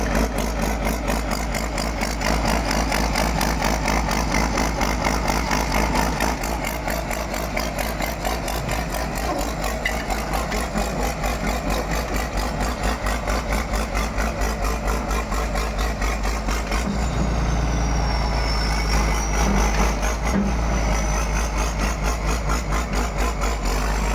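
An excavator engine, long left unused and in poor repair, idles steadily after being started: a loud, close, continuous diesel chug with a steady pulse and no pauses.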